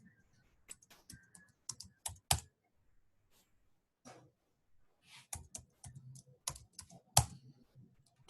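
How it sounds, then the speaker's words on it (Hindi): Password typed on a computer keyboard during setup of a CentOS Linux server connection, with quiet, irregular clicky keystrokes in short bursts separated by pauses. "मैं उसका पासवर्ड डाल देता हूँ यहाँ पे।"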